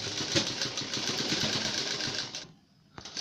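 A sewing machine stitches the folded neckline of a collar kurti with a fast, steady mechanical whirr and chatter, then stops briefly and starts again, close up.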